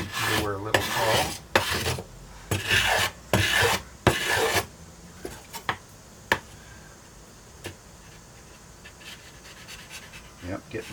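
Wooden guitar sides being planed by hand: a run of sharp, rhythmic rasping strokes close by, then thinning to a few scattered scrapes and taps over quieter room noise.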